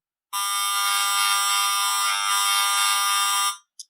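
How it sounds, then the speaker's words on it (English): A mother's baby monitor emitting radio-frequency signals turned into audio: a loud, continuous harsh electronic buzz with strong harmonics that holds for about three seconds before stopping, followed by a tiny blip, heard by itself. "and the mother's baby monitor."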